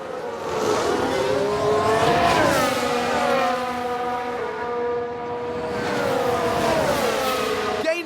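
Aston Martin Formula One car engine in an F1 Manager 22 race replay, a loud sustained high-revving whine that rises and falls through gear changes as the car passes close by.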